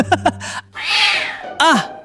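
A cat meows and yowls up close, with two short chirps, a long drawn-out cry, then another rising meow, loud against a quiet background.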